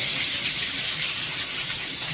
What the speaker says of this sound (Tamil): இந்த மிளகு போட்ட உடனே படப்படன்னு வெடிக்க ஆரம்பிச்சோம்